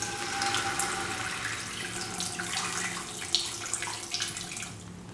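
Water pours steadily into a heated frying pan for a few seconds, a continuous close splashing rush with small bubbling spatters, with no talking.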